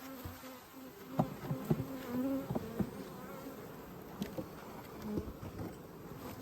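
Honey bees buzz around hive boxes, with a steady low drone and individual bees zipping close by in short, louder passes and soft taps, all outdoors with no talking.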